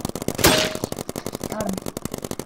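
Rapid bursts of paintball guns firing outdoors during a game, a fast irregular popping rhythm that runs throughout, loud and close, with shouting voices mixed in.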